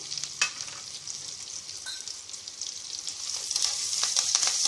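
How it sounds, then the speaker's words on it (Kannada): Cumin seeds and chopped fresh ginger fry in a hot pan, a soft sizzle with light crackles and pops that grow louder toward the end, with no talking. "ಮತ್ತು ಜೀರಿಗೆ ಹಾಕ್ತಾ ಇದ್ದೀನಿ ಕಟ್ ಮಾಡಿಟ್ಕೊಂಡಿರೋ ಹಸಿ ಶುಂಠಿನ ಹಾಕ್ತಾ ಇದ್ದೀನಿ"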